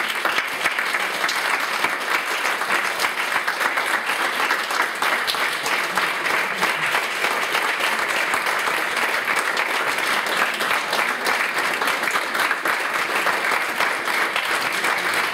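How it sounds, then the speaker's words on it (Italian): A concert audience claps steadily and loudly for two musicians, a dense, sustained wash of applause across the whole stretch, with a brief spoken thanks. "per favore un grande applauso"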